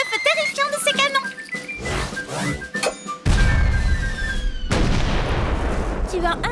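Cartoon cannon fire from a siege battle, heavy booming blasts and crashes layered with whistles and busy sound effects, loud and chaotic, with a voice speaking over the opening.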